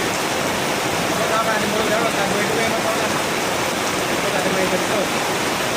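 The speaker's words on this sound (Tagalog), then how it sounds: "Pero dito lang sa linya ng umuulan, eh, no?" Steady rain falls, a dense, even hiss of drops that carries on without pause.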